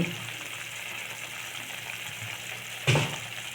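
A steady bubbling hiss of a pot of vegetables boiling on the stove, continuous and close, with one brief clatter near the end.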